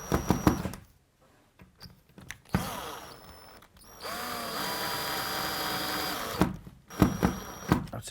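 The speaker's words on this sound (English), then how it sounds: "either using a screwdriver or a cordless drill with a screwdriver bit in," A cordless drill fitted with a screwdriver bit drives screws into a bathroom fitting on a tiled wall. Nearby there are short whirring bursts and ratcheting clicks, then a longer steady motor whine, then more brief spins and taps.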